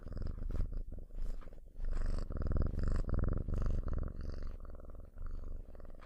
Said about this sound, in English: I don't know if you can hear his purrs.